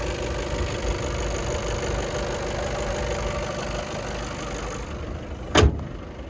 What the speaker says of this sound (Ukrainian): Ну і послухайте роботу двигуна.